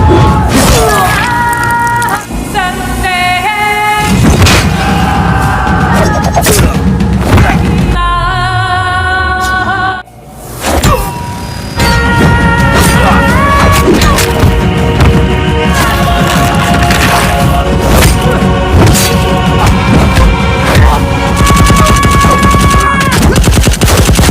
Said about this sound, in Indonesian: Baku tembak kembali terjadi di lorong tempat menuju lokasi Raza.